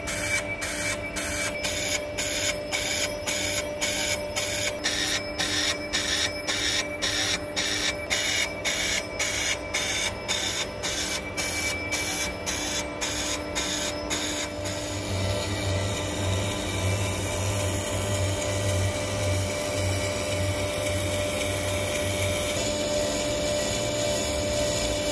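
A metal lathe turns induction-hardened chrome bar with a carbide insert, a steady mechanical drone with a rapid rhythmic ticking for the first half, then a smoother, deeper cutting hum; no speech.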